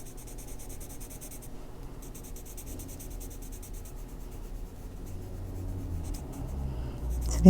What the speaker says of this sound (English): Been a while since I colored with the Prismas too, so gotta get back into using a more wax-based pencil